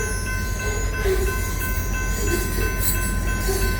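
Blue remote-control locomotives back slowly along the track, giving a continuous low engine drone and rail rumble with a steady tonal whine and occasional squeal of wheels, nearby and unbroken.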